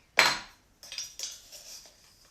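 A metal teaspoon clinks against containers while measuring seasoning for a mango coconut curry, one sharp clatter followed by several lighter scraping taps, close and quiet.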